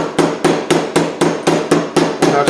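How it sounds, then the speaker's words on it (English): A small hammer strikes copper windings on a motor armature in about nine steady, evenly spaced blows, each sharp, loud and close, with no talk. "I'm not hitting this hard, and it's a small hammer"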